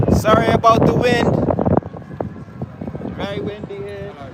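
Wind buffets a microphone outdoors at an anti-war protest in London, a low rumbling roar beneath loud speaking and chanting voices that eases after the first couple of seconds.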